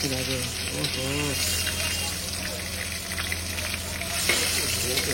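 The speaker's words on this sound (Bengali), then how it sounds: "আর উর্মিলা দেখো রান্না করছে আজকে সরষে ইলিশ" Mustard hilsa (shorshe ilish) frying in a pan at a hotel kitchen, a steady close sizzle with occasional stirring scrapes, while a person talks over it throughout.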